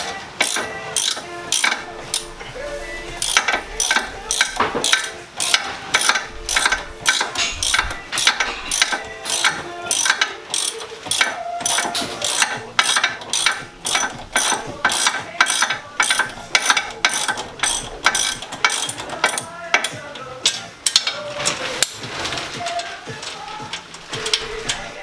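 A ratchet clicks in rapid bursts while loosening 17 mm bolts on a Subaru WRX, with repeated sharp pawl clicks separated by short pauses, close and fairly loud throughout.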